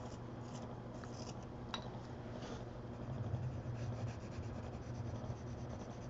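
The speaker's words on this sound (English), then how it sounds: "sharpen it again" A light blue colored pencil is sharpened close by, a steady gritty rubbing and scraping that continues for several seconds over a faint hum.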